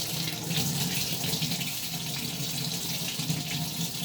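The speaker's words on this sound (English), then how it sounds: "Excuse the noise from the water." Warm water runs steadily from a laundry room sink tap, a constant close hiss and splash with no breaks.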